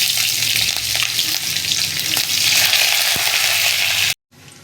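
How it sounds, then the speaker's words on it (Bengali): Black cumin and green chillies hit hot oil with a loud, dense, continuous sizzle that stays steady close up, then cuts off abruptly near the end. "ফোড়নে দিচ্ছি কালো জিরে আর কাঁচা লঙ্কা।"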